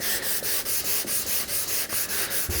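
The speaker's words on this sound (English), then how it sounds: "So this is just hand sand the edge." Hand sanding along the outside edge of a small wooden box, a steady run of about a dozen even back-and-forth abrasive strokes, close and fairly loud with no talk.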